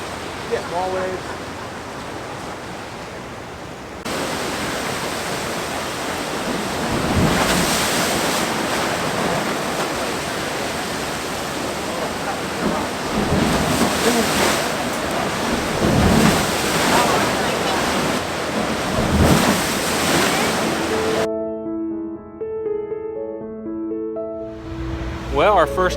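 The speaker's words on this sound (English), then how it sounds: "Yeah, small waves." Small ocean waves washing against the rocky coastline of Acadia National Park, a steady rolling surf with repeated swells and wind noise, followed by a brief musical tone at the end.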